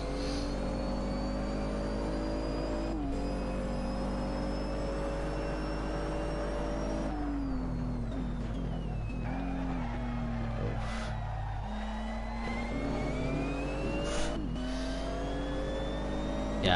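A Nissan GTR engine in Assetto Corsa heard from the cockpit, a steady loud whining roar whose pitch climbs through each gear and drops at every shift, continuous throughout.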